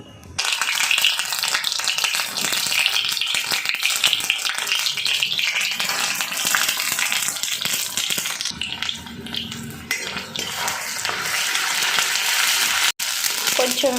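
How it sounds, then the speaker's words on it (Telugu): Ginger garlic paste frying in coconut oil in an iron kadai, a loud, dense sizzle that fills the whole clip, steady and close, easing briefly partway through before building again. "ఇప్పుడు దీంట్లో కొంచెం అల్లం వెల్లుల్లి పేస్ట్ వేస్తా."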